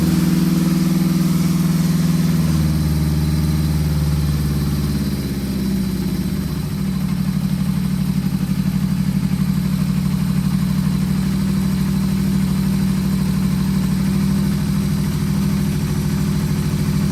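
A Honda CB500F motorcycle engine idles steadily at close range, its low drone shifting slightly in pitch during the first few seconds and then holding even.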